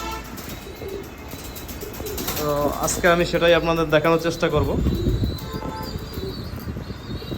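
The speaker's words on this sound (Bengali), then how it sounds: "আমার কবুতরগুলো খুবই সুস্থ সবল হেলদি একদম খুবই ভালো ফিটনেস" Pigeons coo softly in the background while someone speaks clearly close by, his voice dominating the middle of the stretch.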